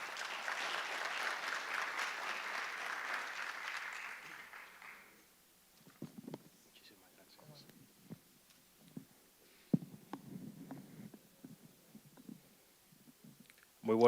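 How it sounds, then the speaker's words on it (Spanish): Audience applause for a speaker at an international law congress, a steady burst of clapping that fades out after about four seconds, followed by quiet room noise with scattered clicks and a few faint voices. "Un aplauso para Harold"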